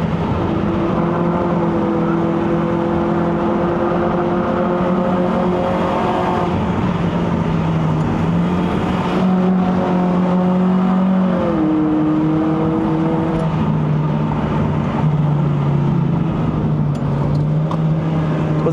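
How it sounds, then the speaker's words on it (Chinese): Mitsubishi Lancer 2.0 GT with a CVT revving hard on a mountain climb, engine held at a steady high-rpm drone that shifts pitch slightly, loud and continuous from inside the car. "因为它的优势是配搭的一个 CVT 啦 ，CVT 可以保持的一直在高转的时候，你看。"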